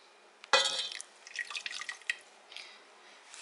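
Lemon juice drips and splashes onto butter in a pan while making a lemon lime cheesecake with coconut crust, a sharp liquid splash followed by several lighter trickling drips, close and fairly quiet.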